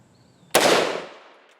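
A rifle fires a single M855 round into plastic body armor: one loud, close, sharp crack with a decaying tail and nothing else around it.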